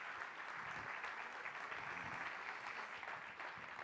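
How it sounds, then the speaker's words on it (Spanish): Applause from the audience at the Retail Future conference as a speaker is welcomed, a faint, even patter of many hands heard from a distance. "Un aplauso, por favor."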